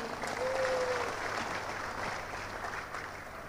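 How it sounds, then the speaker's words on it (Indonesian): Sustained applause from a sizable crowd, dense and steady throughout, fairly loud and tapering slightly near the end. "Boleh berikan tepuk tangan yang sangat meriah."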